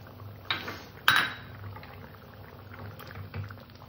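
Fried cashews and raisins tipped into simmering dal, with a couple of sharp clinks of a spoon against the pot, then soft bubbling and stirring sounds, close and fairly quiet.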